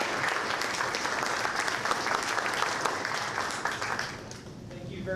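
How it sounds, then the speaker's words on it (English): Audience applause at a Bellbrook-Sugarcreek school board of education meeting: a steady wash of clapping from a room of people that fills the clip, fading somewhat near the end as a voice begins. "we do want to give them a round of applause and thank them for their service"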